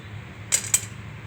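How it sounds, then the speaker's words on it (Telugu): Whole spices, star anise and cloves, dropped into a pan for biryani masala make two quick, light clinks close together over a quiet background. "బిర్యానీ స్టార్స్ వేసేసుకుందాం అనాస పువ్వు లవంగాలు"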